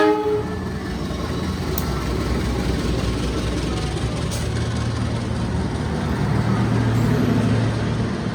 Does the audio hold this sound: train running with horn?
yes